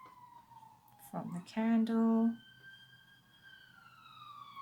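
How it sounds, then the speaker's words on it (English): Emergency vehicle sirens on a nearby main road wail faintly in the background, their long falling tones sweeping on after a brief burst of talk. "I apologize for the sirens."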